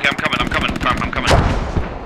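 Rapid, loud booming gunfire and heavy explosive blasts from mortar rounds firing in a tactical multiplayer squad video game, a dense close barrage with a big detonation near the end.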